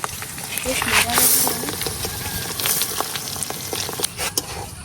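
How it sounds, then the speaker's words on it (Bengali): Soaked rice frying in hot oil for pulao, a dense crackling sizzle with scraping stirs, close and moderately loud, under a speaking voice. "এখন এই তেলের মধ্যে চালগুলারে খুব সুন্দর করে বাজালাম"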